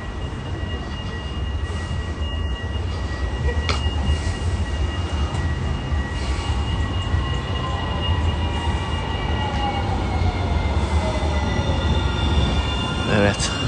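A tram rolls along its tracks toward a tram station on a Rotterdam street with a steady low rumble and faint metallic squeals, heard from nearby with traffic noise around.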